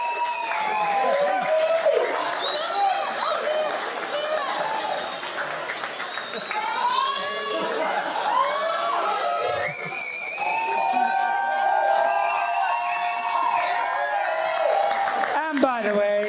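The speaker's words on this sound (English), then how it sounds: "Big round of applause." Wedding guests clap and cheer at a reception, a dense crowd noise with whoops and chatter running steadily throughout, voices mixed in close by.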